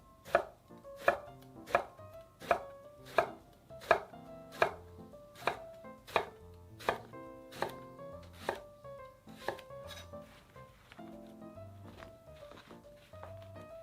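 A knife slices eggplant diagonally into 0.5 to 0.7 cm pieces on a board, a steady series of about fifteen crisp, evenly spaced chops close up that slow and soften toward the end, with no talk.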